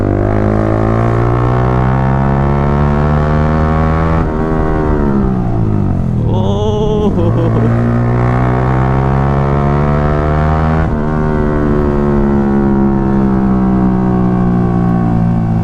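A Yamaha R15 V3 motorcycle fitted with a full Akrapovic exhaust system, ridden with a loud, steady engine drone that dips briefly and then climbs again as the throttle opens.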